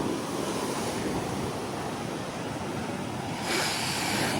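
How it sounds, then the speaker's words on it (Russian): Stormy ocean surf rolls in a steady, loud roar on a beach at Muscat, Oman, with a sea breeze buffeting the microphone throughout and a slight swell in intensity near the end. "Какой красивый шторм сегодня. Но океан это, конечно, океан, это не море."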